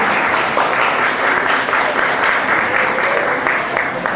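Steady applause from a large crowd, dense and continuous clapping that holds at an even level throughout.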